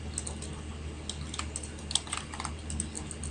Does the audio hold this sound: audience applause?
no